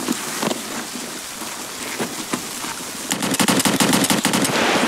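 Gunfire in the game Escape from Tarkov: scattered shots over a loud, steady rain-like wash, then a rapid automatic burst of dense shots near the end, with no talking.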